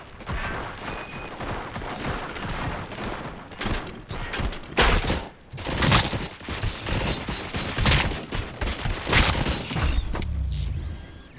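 Gunfire in the RoboCop video game, rapid bursts of mechanical shots and clanking in a dense, loud volley after a quieter stretch, with no talking.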